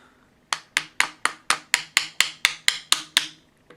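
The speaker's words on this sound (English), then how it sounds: "Let's just tap that in gently." A trigger pin being gently tapped into a Ruger 10/22 receiver while a Volquartsen TG2000 trigger is fitted: twelve crisp, evenly spaced hammer taps, close and fairly loud, with no voices.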